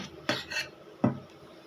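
Chicken samosa filling scraped and stirred with a metal spoon in a pan, two distinct clinks and scrapes a moment apart, close and fairly soft.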